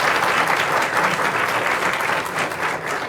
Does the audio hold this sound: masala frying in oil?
no